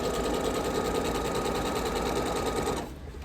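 A sewing machine stitches in a fast, even mechanical patter, close and loud, running steadily before stopping abruptly near the end, leaving quieter motor hum.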